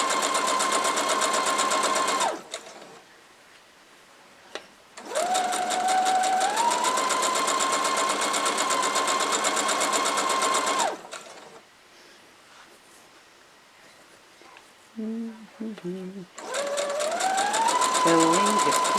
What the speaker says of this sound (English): Sewing, just keep sewing